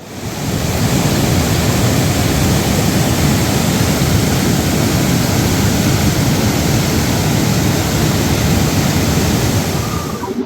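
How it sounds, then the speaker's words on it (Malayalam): Forceful stream water rushes steadily and loudly on a Kerala estate near an old British-built bridge, a dense continuous roar with no voices. "ഈ വെള്ളം ഇങ്ങനെ ഒഴുകി പോയിട്ട് അതിൽ കൂടെ അങ്ങനെ ഒഴുകി പോകുന്നതാണ്."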